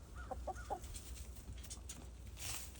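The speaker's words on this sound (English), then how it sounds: "Look at these hens going after it." Hens and a newly arrived rooster on a small ranch, heard as a few soft clucks and calls early on over steady low background rumble, with faint scattered bird sounds afterward.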